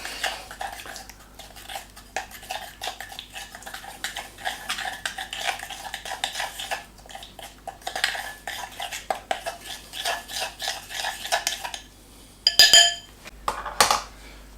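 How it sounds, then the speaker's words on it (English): A spoon stirs baking soda and water into a paste in a bowl, scraping and clinking steadily against the sides up close, ending with a few sharper knocks. "I've put some water here in a in a bowl, and I'm just going to add a quantity of the bicarb. Just mix this"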